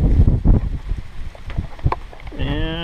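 Gusty wind buffets outdoors in low rumbling bursts, heard while a 1/16 REMO 1631 SMAX short course RC truck is readied, with a brief electronic beep near the end.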